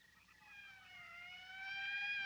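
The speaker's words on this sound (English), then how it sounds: "That's the fifth siren in the last hour." Police or morgue-wagon siren in an old film, a rising-and-falling wail with a strong pitched tone and layered overtones, swelling slightly louder over a few seconds with no talk.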